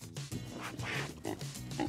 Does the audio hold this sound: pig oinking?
yes